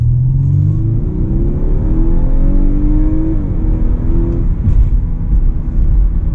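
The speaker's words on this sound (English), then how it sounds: "Engine sounds good." A 2023 Audi A5 in sport mode accelerates hard from inside the cabin, its engine note climbing steadily in pitch, briefly dropping at a shift, then pulling upward again with a loud, continuous drone.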